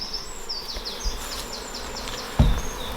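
Honeybees buzzing around an open hive during a colony inspection, a steady close insect drone with individual bees whining past, and a short thump partway through.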